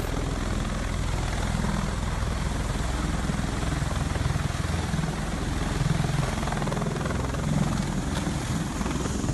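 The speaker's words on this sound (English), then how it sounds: "While coming in for landing, this Osprey military helicopter was suddenly hit by a strong gust of wind." An Osprey military tiltrotor aircraft coming in to land in a strong gust of wind, its rotor and engine noise forming a loud, continuous roar throughout.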